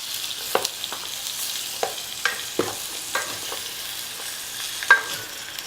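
Pork browning in a pot with garlic, a steady moderate sizzle punctuated by regular clanking scrapes of a utensil stirring the meat, heard close and without talk.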